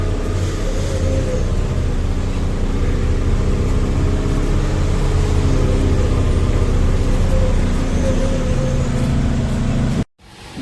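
A car driving on the road after coming down a ghat, heard from inside: a loud, steady low engine and road rumble that holds throughout and cuts off abruptly near the end.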